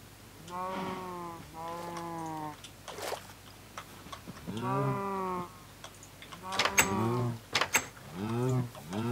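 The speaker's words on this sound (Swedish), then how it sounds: "Hästarna, eller korna låter så." Minecraft horses or cows call in a run of separate, tonal vocalizations with strong harmonics, some drawn-out and some short, fairly close and clear over a quiet game background with faint clicking.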